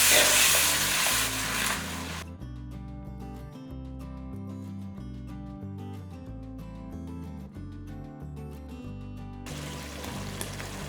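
Ground tomato paste with green and dried chilies sizzling and being stirred in a pan, a steady loud frying hiss with intermittent scraping under light background music, no talk.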